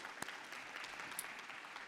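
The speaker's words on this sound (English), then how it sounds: "So really a round of applause for the panel members" An audience at a startup event applauds a panel, a quiet, fairly distant patter of many hands with a couple of sharper individual claps standing out.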